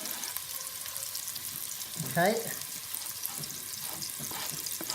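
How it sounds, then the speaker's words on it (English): Onions frying in hot oil as the base for butter chicken, a soft continuous sizzle with light stirring, fairly quiet and close, while a voice briefly speaks over it. "Make sure the oil is hot enough so there's a little sizzle."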